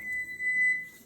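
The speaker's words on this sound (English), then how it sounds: "the buzzer has gone off at 13 minutes" A kitchen timer buzzer sounds while hard-boiled eggs cook, giving a steady, sustained electronic tone that rings continuously for just over a second.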